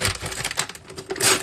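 A glued LEGO Marvel Spider-Man set bag torn open by hand, a dense rapid crackling rip of plastic lasting about a second and a half, close and loud, swelling at the end, with no talk.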